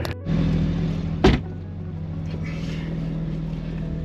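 A Porsche 718 engine holds a steady drone at constant throttle through a turn, with a sharp clunk early on, then an even, close hum under faint voices.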